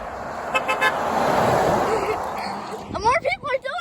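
A car horn toots in short repeated blasts on a road with passing traffic noise, and people talk loudly nearby toward the end.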